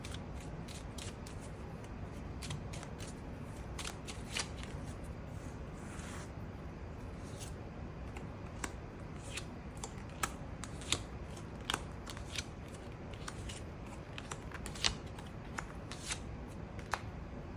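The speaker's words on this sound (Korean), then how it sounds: "추가 카드 뽑아보도록 하겠습니다" Tarot cards being shuffled, a steady papery riffle with repeated sharp card snaps and flicks throughout, close and fairly quiet with no talking.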